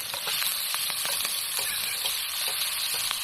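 Onions and ginger tossed into a hot wok sizzle loudly and continuously, with quick scraping stir strokes repeating throughout, close and with no voice.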